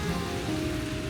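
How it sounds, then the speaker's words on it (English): Rain in Stowe, Vermont falls steadily, a close, continuous patter of drops on surfaces with a soft low rumble beneath, with no talking. "because it's raining, a lot of people will probably stay kind of away from downtown"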